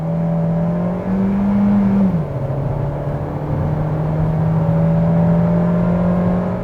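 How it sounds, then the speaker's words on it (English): A 2020 Kia Seltos in sports mode drives with a steady engine drone from inside the cabin, the pitch rising briefly as it accelerates and then holding a smooth, sustained whir. "Let's put the car into sports and drive."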